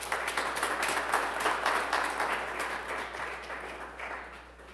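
A church congregation at a Sunday service gives a round of applause, a dense wash of many hands clapping at once that stays steady and then slowly fades out.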